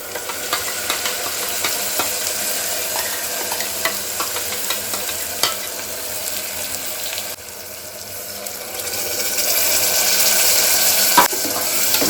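Masala frying and being stirred in a pan for pudina vegetable rice, a steady close sizzle with scraping stirs and a brief watery rush partway through, no talking.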